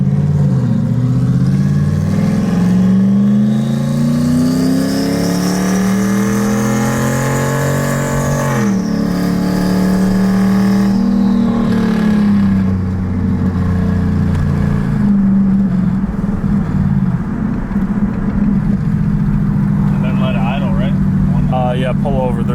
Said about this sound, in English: Did you hear that turbo singing?